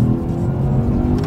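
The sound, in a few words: sports car engine revving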